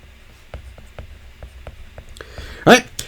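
Pen writing on a lecture tablet, producing a run of light, regular taps and short strokes, close and soft. A brief louder scrape comes near the end, with a lecturer's voice in the background.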